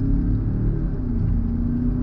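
A new Land Rover Defender pulls away after a 90-degree turn as the throttle is applied, giving a steady, close engine rumble and whir with no voices.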